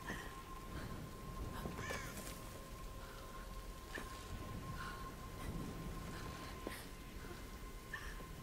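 Crows caw several times in a Tomb Raider game scene, short harsh calls spread across a steady ambient background with other faint game sounds, moderately near and not loud.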